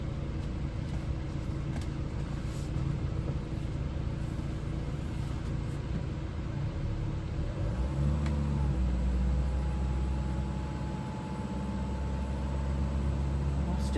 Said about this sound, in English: So I'll just give it a little bit of just a little rev